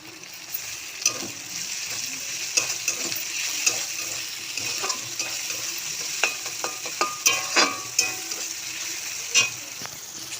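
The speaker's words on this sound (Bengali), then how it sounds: "দেখুন পেঁয়াজটা লাল লাল হয়ে ভাজা হয়ে আসছে।" Crushed garlic and onion fry in a wok with a steady sizzle, broken by scattered clinks and scrapes of stirring close by, and no one talking.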